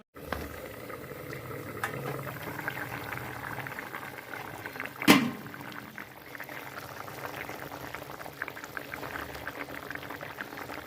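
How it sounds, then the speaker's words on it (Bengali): Fish curry broth with potatoes boils steadily in a covered pot, giving a continuous close bubbling simmer with one brief sharper clatter midway and no talking. "এই ঝোলটা ভালো মতো ফুটে গেছে"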